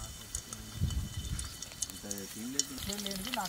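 Six chopped green chilies fry in hot oil in a pan for jeera rice, giving a soft, steady sizzle while a person talks over it.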